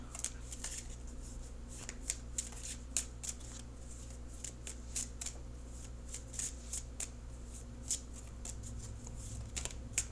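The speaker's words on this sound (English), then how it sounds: "So now I'm going to shuffle" Tarot cards are shuffled repeatedly at close range, a quick run of crisp riffling slaps over a low steady hum.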